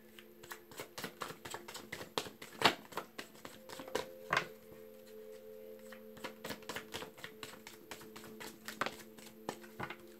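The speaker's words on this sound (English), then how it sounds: "Last shuffle." Tarot cards shuffled by hand, giving a run of quick, dry riffling clicks and soft flicks in uneven bursts, close and fairly quiet, with a low background hum.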